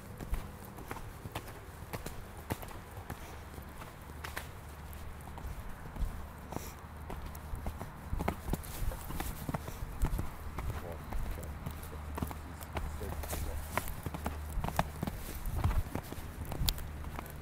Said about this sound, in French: là on a le cheval qui se relâche